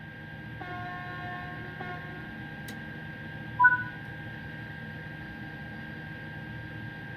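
A TGV Duplex Series 200 train in Train Sim World 4 pulls away. A steady low rumble with high whining tones carries through, and a brief swell of sound comes about halfway through.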